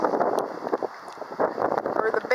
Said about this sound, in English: Oh my gosh, it is windy up here.